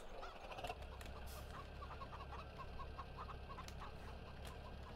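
A chicken clucks repeatedly in Landwirtschafts-Simulator 17 (LS 17), soft rhythmic clucks over a quiet farmyard ambience with a low steady hum, faint and at a distance.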